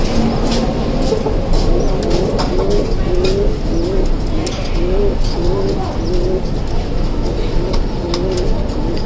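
Pigeons coo in a steady repeating rhythm as a parent tries to feed its chick, close and clear, over a constant background noise throughout.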